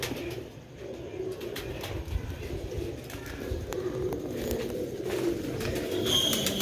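Pigeons coo softly and repeatedly against a low background hum, with a few faint chirps scattered through.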